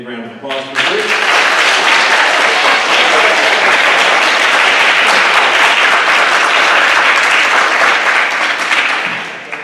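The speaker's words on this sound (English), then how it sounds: "Big round of applause for Bruce." Loud, sustained audience applause fills a high school academic awards ceremony for about nine seconds, rising right after a brief moment of voice and tapering slightly at the end.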